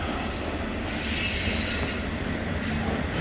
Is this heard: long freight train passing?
yes